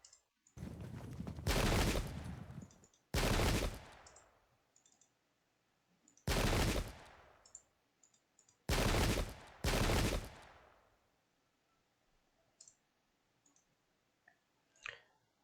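Musket volleys crack out in the Pike and Shot strategy game during a 1620 White Mountain battle, five loud, sharp bursts of massed gunfire at uneven intervals, the first one long and rolling, with near silence and faint clicks between them.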